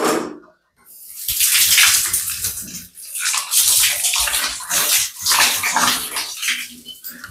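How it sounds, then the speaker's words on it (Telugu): Tap water flows through an Aquaguard bathroom water softener while hands are washed with soap, making a loud, steady hiss and splash that breaks into a few short gaps as the hands move under the stream. "ఇది ట్యాప్ నుంచి వచ్చే వాటర్ దీంట్లో ఫిల్టర్ అయ్యి ఇక్కడ నుంచి మనకు అవుట్లెట్ నుంచి వస్తుంది."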